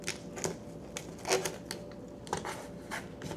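Packing tape is pulled and pressed onto a cardboard shipping box made from scrap cardboard, producing a quiet series of sharp crackles and taps at irregular intervals, close up and fairly faint.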